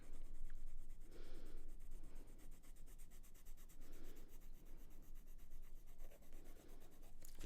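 A colored pencil is pressed hard and rubbed over paper to blend layered pigments in adult coloring. Faint, scratchy strokes come in short bursts, close up and with no talking.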